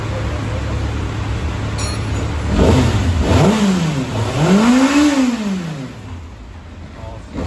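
A 2024 Kawasaki ZX6R sport bike engine revs up to 7,500 RPM during a first service, the pitch climbing and falling in two loud sweeping surges over a steady idle, with a voice briefly audible.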